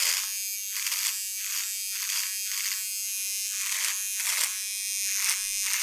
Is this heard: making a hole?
no